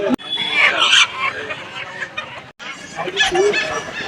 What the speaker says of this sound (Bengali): পাশে কাকা বেশ কয়েকটা কিন্তু মুরগি নিয়ে আসছে